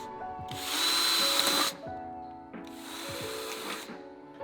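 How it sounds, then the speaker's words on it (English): A power drill whirs in two bursts of about a second each, high-pitched and close, drilling holes in a PVC tube, with a pause between them. "We're gonna drill some holes and create a smoke curtain."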